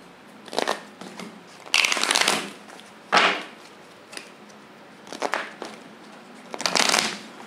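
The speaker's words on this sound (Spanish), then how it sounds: "Vamos a sacar tus cartas de hadas" Fairy-themed oracle cards being shuffled by hand: several separate bursts of crisp riffling and flapping, close and fairly loud, with quiet pauses between them and no talking.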